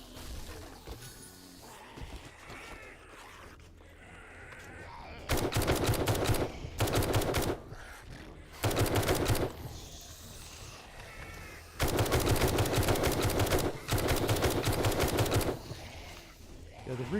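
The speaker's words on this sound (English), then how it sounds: "The recoil on this rifle is much less." Rifle fire in the survival video game 7 Days to Die: several loud bursts of rapid automatic shots, each lasting one to two seconds and separated by short pauses, over quieter ambient game noise at the start.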